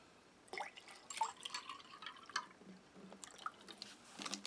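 Water trickles and splashes in small, faint bursts as it is poured into a Russian Federation IRP ration meal, close by and quiet with soft drips between pours.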